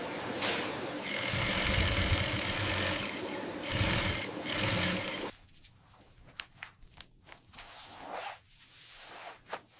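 Industrial sewing machine stitching quilted jacket insulation in a garment factory, a fast steady whirring run for about five seconds, then stopping, followed by scattered quieter clicks and handling noises.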